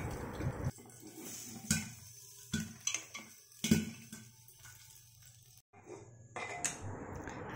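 Popcorn popping inside a covered pressure cooker over high heat: quiet, muffled pops and ticks scattered irregularly against the metal lid, with short silent gaps between them.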